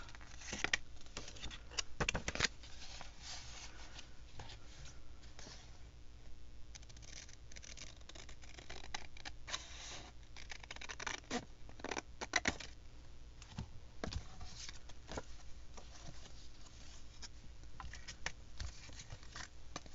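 Scissors snip a paper craft piece free while making a tri-step library pocket, giving a string of close, crisp cuts and paper rustles that come in irregular bursts throughout, with no voices.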